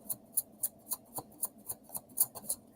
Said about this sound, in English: Ooh, that was a really good shuffle.